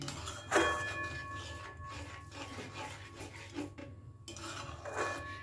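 Fenugreek greens being mixed in a pan over a medium gas flame with a little added water, with soft scraping and clinking of a spatula against the pan and a low steady background hum.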